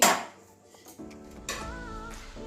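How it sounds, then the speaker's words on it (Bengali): A metal pot lid comes off a pot of Bengali katla fish kalia cooked in yogurt, giving a few soft clinks and a light ringing clatter of metal, close and quiet. "এবারে ঢাকনাটা খুলে নিচ্ছি"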